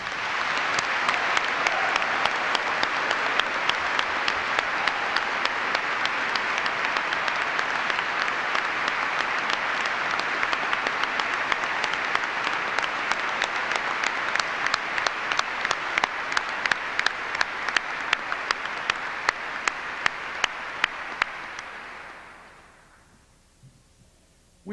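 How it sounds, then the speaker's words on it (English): Sustained, loud applause from a commencement audience honoring faculty at a Saint John's University graduation ceremony, a dense wash of clapping lasting over twenty seconds before tapering to a quick stop. "Let us all give them a rousing round of applause."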